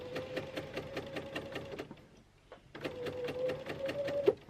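A sewing machine stitches piping in rapid, even bursts of needle clatter with a motor whine, pausing briefly before resuming at close range.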